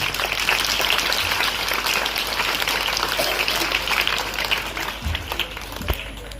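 An audience at a school investiture ceremony applauding loudly and steadily, a dense wash of many hands clapping close by that eases slightly toward the end.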